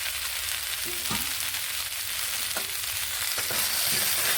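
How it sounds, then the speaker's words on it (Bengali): Fried pumpkin and potato being stirred in a sizzling pan, a dense continuous frying hiss with a few distinct spatula scrapes and clinks against the pan, close and steady, no voices. "এবার এখানে ভেজে রাখা কুমড়ো ও আলুগুলোকে দিয়ে নিচ্ছি"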